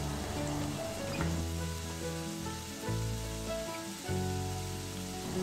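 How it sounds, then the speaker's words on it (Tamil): Chopped onions and green chillies sizzle and fry in a pan for mutton gravy, a steady close crackle running under background music throughout. "இப்போ வெங்காயமும் பச்சை மிளகாயும் நல்லா வதக்கி எடுத்துக்கலாம்."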